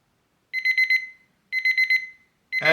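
An Auriol digital timer alarm beeps in two clear bursts of rapid high-pitched pulses with short gaps between, then a third burst begins as other sound cuts in at the end.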